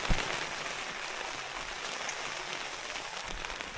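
Steady rain pours at a chilly night campsite in Atok, Benguet, a dense continuous hiss of drops on surfaces with a brief thump near the start and no talk.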